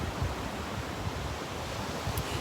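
Ocean waves wash continuously as a steady broadband surf roar, with soft low swells rising and falling throughout and no voices.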